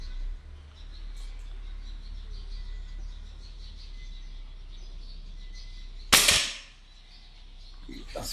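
A single sharp crack from a Hatsan Apache 1000 FPS air rifle fired at a target at dusk breaks a quiet outdoor hum, followed by a brief decaying tail and faint distant bird calls.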